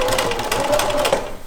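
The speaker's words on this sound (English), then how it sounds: "I'm gonna back stitch a little bit and then front stitch" A sewing machine fitted with a walking foot stitches a simple zipper bag, running in a steady, close mechanical whir with rapid needle ticks for about a second and a half, nothing else over it.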